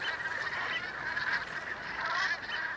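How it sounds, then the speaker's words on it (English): Light-bellied Brent geese honk continuously on mudflats, a dense chattering flock calling together at moderate distance with no pauses and no talk. "Light-bellied Brent geese hustle and bustle."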